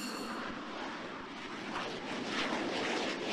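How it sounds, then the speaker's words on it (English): A drone's Pratt & Whitney F-100 PW220U jet engine on an aircraft carrier gives a continuous broad roar, fairly faint and distant, swelling slightly toward the end. "Powered by a Pratt & Whitney F-100 PW220U engine,"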